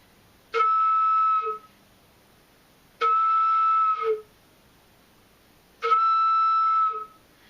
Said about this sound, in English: If I blow really fast into my head joint, with it covered, it'll sound like this.